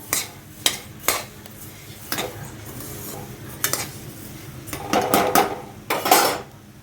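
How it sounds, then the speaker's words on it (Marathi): Roasted coriander seeds scraped and lifted out of a pan in a village kitchen while making Kolhapuri onion-garlic masala: a run of metallic clinks and scrapes of spoon against pan, near and fairly loud, with no talking. "आता हे धणे काढून घेऊया"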